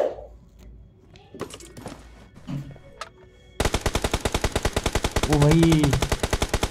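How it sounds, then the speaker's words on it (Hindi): Rapid automatic gunfire in the battle-royale video game PUBG erupts as an evenly spaced, loud burst after a few scattered shots. Someone speaks briefly before it and another voice is heard over the firing. "ये किधर से फायर कर रहा है,"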